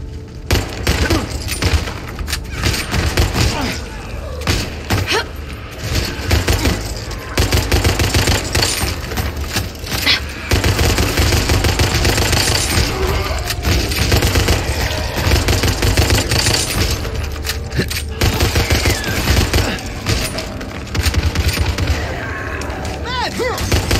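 Gunfire from the video game Back 4 Blood: dense, sustained bursts of shots and heavy booms fill the whole stretch, loud and continuous with little pause.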